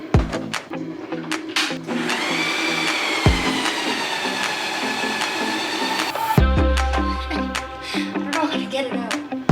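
A blender whirs steadily as it mixes a smoothie with chocolate chips, its motor droning loud and close with some clattering and a sharp shift midway, then knocking and rattling near the end.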